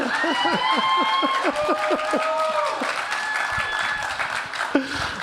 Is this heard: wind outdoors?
no